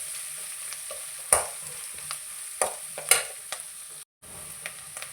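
Curry leaves, garlic and cumin frying in hot oil, a steady close sizzle with a few sharp crackles and pops and brief stirring scrapes, no voices.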